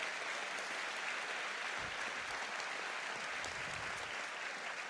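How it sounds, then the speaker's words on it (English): Sustained crowd applause at the 2014 Kansas City GMRP final performance, a steady dense wash of clapping that holds evenly for about five seconds with no voices over it. "How about a round of applause for the Sprint Center in particular?"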